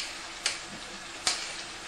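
Cooked pilau rice is mixed in a pan, with two brief soft scrapes of a utensil against the pan about a second apart over faint background hiss, and no talk.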